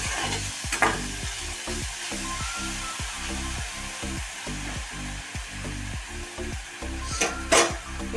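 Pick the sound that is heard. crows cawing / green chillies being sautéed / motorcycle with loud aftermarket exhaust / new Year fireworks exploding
green chillies being sautéed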